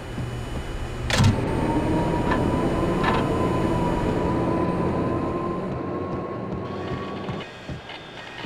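A subway train in Max Payne powering back on, a loud, steady rumbling drone with a rising electrical whine and a couple of sharp metallic clanks before it fades.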